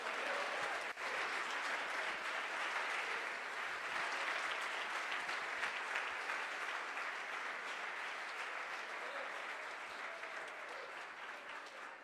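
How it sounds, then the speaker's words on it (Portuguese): A church congregation applauds during a worship service, a steady, dense wash of many hands clapping that holds evenly for about twelve seconds and fades slightly near the end. "Aplaude e engrandeça o nome do Senhor."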